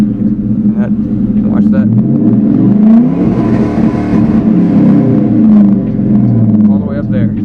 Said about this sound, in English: So now when I rev it up, it will activate the 2-step and you can launch off that.